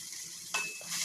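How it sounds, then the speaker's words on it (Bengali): Potatoes sizzling in plenty of oil with ginger-garlic paste as they are stirred and sautéed for aloor dom, a soft steady frying hiss with a brief louder scrape of stirring midway. "আদা রসুন বাটা দিয়েছি এক চা চামচ এরপরে ভালো করে কষিয়ে নিতে হবে"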